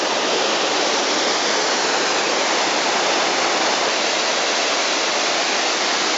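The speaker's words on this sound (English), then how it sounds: "So this is the second waterfall." A waterfall near Aguas Calientes roars as a steady, dense wash of falling water, loud and unbroken throughout with no other sounds.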